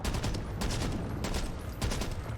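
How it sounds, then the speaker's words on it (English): Continuous rapid gunfire from a fully automatic weapon in the Back 4 Blood shooter game, a dense dry clatter with brief gaps between bursts, fairly quiet and steady throughout. "You can even sort of burst fire it here."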